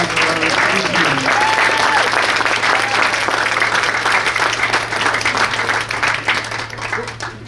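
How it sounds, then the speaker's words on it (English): Audience applause for a school team at a district board of education meeting: sustained, dense clapping from a room of people, loud and steady throughout, tapering slightly near the end. "One more round of applause for our team"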